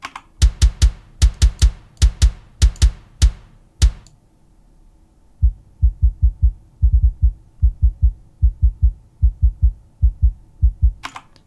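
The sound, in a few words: heavy mixed kick drum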